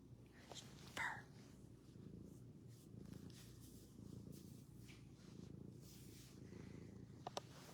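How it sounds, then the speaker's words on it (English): A cat purrs softly and continuously close to the microphone, a faint, steady rumble with a few brief rustles and clicks over it. "Purr."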